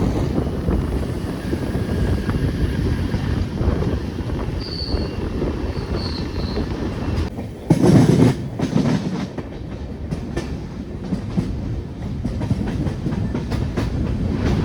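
The Thiruvananthapuram-Thrissur Intercity Express rolls into Aluva station, carrying a steady loud rumble of wheels and carriages with a brief louder clatter midway and faint squeals.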